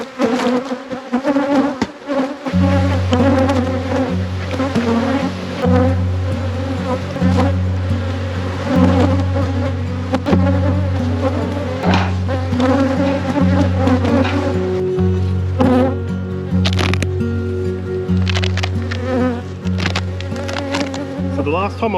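Honeybees at an open hive in a productive apiary: a loud, close swarm buzz with shifting pitches and a steady low drone underneath, continuous and without speech.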